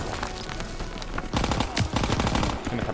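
Sustained gunfire from Call of Duty WW2, a World War II shooter, with bursts of machine-gun fire and sharp shots clustering and intensifying in the second half, loud and close, with faint speech mixed in.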